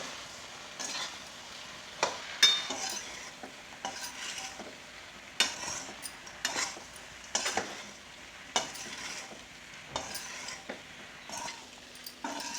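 Puffed-rice breakfast mixed with soaked lahya and coriander is stirred in a pan: rhythmic scraping and rustling strokes roughly every second, close and moderately loud, with faint sizzling between them.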